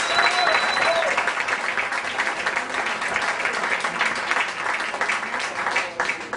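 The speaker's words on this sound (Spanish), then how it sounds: "Un aplauso." Audience applause fills a jazz concert at a theatre, dense and sustained clapping with a steady crowd roar that carries from start to finish, with some indistinct voices mixed in.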